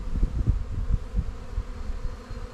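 Bees swarm around an opened beehive during a queen check, their low, steady hum close and continuous, rising and falling slightly with no voices over it.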